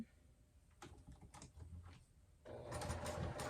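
Sewing machine stitching a seam in vinyl, a quiet rapid mechanical patter that starts in short bursts and then runs steadily louder toward the end, close by.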